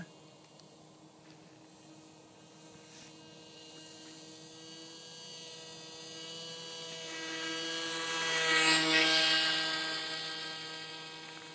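An HK airboat runs on snow, its engine and propeller giving a steady droning hum with strong harmonic tones that swell louder and nearer around the middle of the stretch before easing slightly, with no talking.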